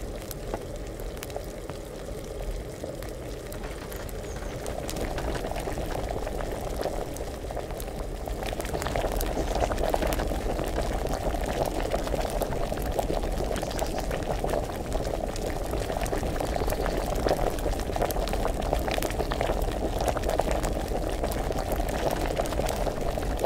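Water boiling in a pot on a stove in the medieval role-playing game Kingdom Come: Deliverance, a steady, dense bubbling that swells slightly louder after the first few seconds and rolls on continuously with no talk.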